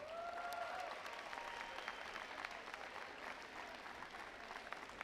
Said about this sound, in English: Let's hear it with a big round of applause for all the teams competing today.